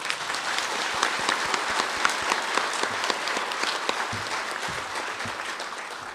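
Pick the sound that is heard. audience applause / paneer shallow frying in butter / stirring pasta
audience applause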